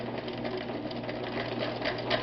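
A vintage Viking 6690 sewing machine stitches through four layers of fabric with a lengthened stitch, giving a steady, close, continuous mechanical whir and rapid needle chatter with no talking.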